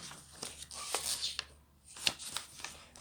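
Paper is creased and folded to make a paper bomb, giving a run of soft crinkling rustles and crisp little snaps close up, with no talking.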